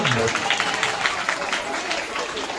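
An audience at a school flag-hoisting program by a Lions Club applauds the girls' dance, a continuous crowd of clapping hands rolling steadily throughout, loud and close.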